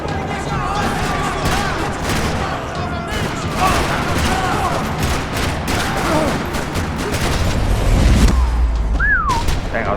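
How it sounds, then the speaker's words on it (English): Steady, dense gunfire rattles continuously in a Max Payne 3 parking lot scene, with booms and a rising whistle near the end, all loud and close. "Another parking lot rattling with gunfire."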